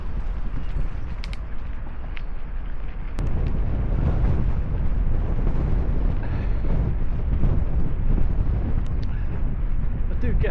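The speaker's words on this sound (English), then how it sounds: "I do get a bit fed up with continually cycling into the wind" Strong wind buffets the microphone while cycling along the Tarka Trail, a constant heavy low rumble that grows louder after the first few seconds and carries no speech.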